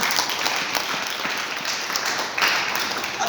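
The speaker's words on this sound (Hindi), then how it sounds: "तो सुनील सर के लिए एक जोरदार ताली होना चाहिए।" Audience applause at a Modicare business gathering, steady dense clapping from a crowd filling the whole stretch at an even level, with a slight swell near the end.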